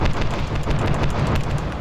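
Rapid, rumbling impact bursts from missiles striking the boss in Metroid, a dense run of loud collision hits with no pauses.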